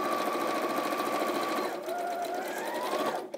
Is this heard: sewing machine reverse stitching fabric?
yes